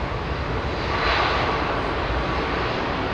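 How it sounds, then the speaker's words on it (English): Jet airliner taking off at London Heathrow, a steady broad engine roar that swells slightly midway and holds loud and continuous throughout, with no voices. "Wow, that's a very D-rated takeoff, man."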